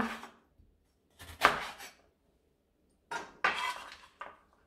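A knife cuts parsley into rounds on a cutting board with a few separate clusters of knocks and scraping clicks, quiet and close, separated by short pauses.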